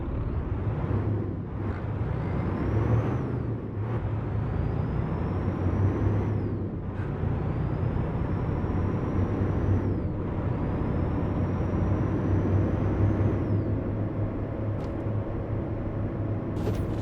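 A heavy truck engine in a driving video game rumbles steadily throughout, with repeated hissing air-brake releases and whining gear shifts, no voices.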